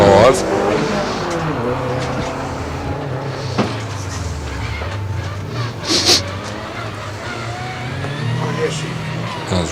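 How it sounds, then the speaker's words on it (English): Subaru WRX race car rounding a hairpin at a hillclimb, a steady engine drone with a fluctuating low rumble throughout, moderately near, with brief louder bursts, while commentary plays under it. "As we see the Adam Zemkus WRX making its way around the hairpin towards the finish line now"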